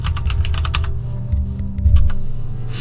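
Rapid keystrokes on a computer keyboard, typed into a message box, clattering in quick bursts with a brief pause midway, close and clear over a low steady hum.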